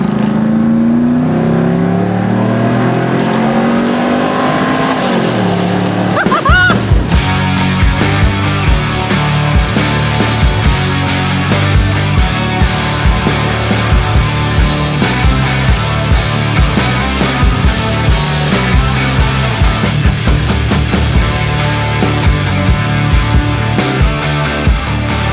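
A refurbished car with new intercooler charge pipes accelerates hard. Its engine revs loudly, then a burst of rapid, sputtering pulses and whooshing intake noise carries on up close for over twenty seconds.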